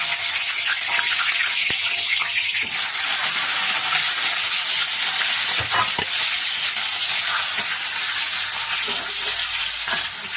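Chili peppers sizzle and spit in a pan still oily from frying eggs, a loud continuous crackling hiss with occasional sharper pops and stirring scrapes, close and without talk.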